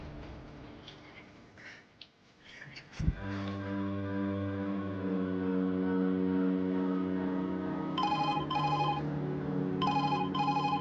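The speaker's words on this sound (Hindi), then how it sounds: "ठग का फोन आ रहा है" A telephone rings in two short electronic bursts over a sustained musical drone in a Hindi comic skit, fairly loud and close, with no talk over it.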